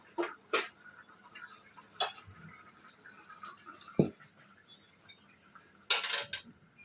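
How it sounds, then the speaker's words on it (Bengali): Cooked mutton goes into a pressure cooker with a few sharp metal clinks of spoon against pot, spaced irregularly over a steady low background hum, with no voices. "এবার আমি কুকারে দিয়ে দেবো।"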